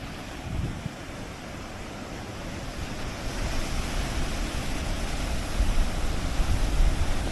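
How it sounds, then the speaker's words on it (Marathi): Sea surf rolls in below Ratnadurga fort's Bhagwati sunset point in Ratnagiri, a continuous broad wash of waves that swells louder toward the end, mixed with wind buffeting the microphone. "आणि माझ्या समोर समुद्र आहे।"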